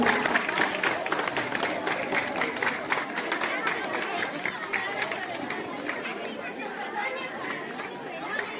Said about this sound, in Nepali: जोरदार तालीले हिरालाई बधाई ज्ञापन गरौँ।